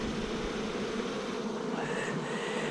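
Honey bees swarm and buzz steadily around a beehive that has been torn open, a dense, continuous drone close by with no voices.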